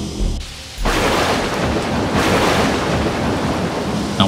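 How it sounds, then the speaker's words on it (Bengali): Heavy rain and a rumbling thunderstorm in a Bengali cartoon: after a short lull the roar of rain swells loud and dense, with low thunder rolling under it and no voices. "এমন সময় আবারও বৃষ্টি শুরু হল।"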